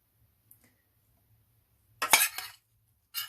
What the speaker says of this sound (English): Give these a bit of a stir in with that butter